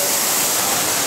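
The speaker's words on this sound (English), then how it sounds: "this place has like waterfalls and stuff" A mountain waterfall rushes in a constant, full hiss, loud and close, with no talk or other sounds breaking through.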